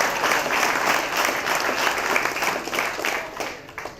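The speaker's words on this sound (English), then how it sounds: "Let's give him a round of applause one more time." An audience at a prison futsal launch event applauds, dense close clapping that holds steady for a few seconds and then begins to thin out.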